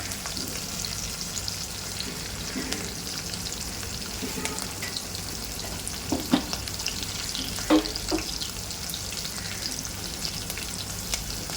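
Garlic and curry leaves sizzle and crackle steadily in a hot pan, with a few soft stirring knocks and clinks scattered throughout.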